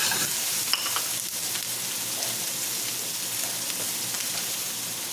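Tomato sautés in a pan with pork, giving a steady, close sizzle with light crackling and brief stirring scrapes throughout, no voices.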